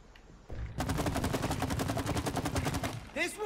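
Rapid sustained gunfire from shooting in the co-op video game It Takes Two, a dense continuous burst of shots that starts abruptly and runs for several seconds before cutting off.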